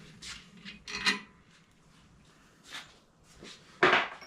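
Tool reaming and scraping inside the steel seat tube of a 1963 Schwinn Traveler bicycle, giving a few separate gritty rasping strokes with quiet pauses between them, close and fairly faint.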